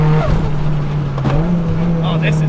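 A Mitsubishi Evo pulls hard in third gear, its engine droning loudly and steadily from inside the cabin, with someone speaking over it.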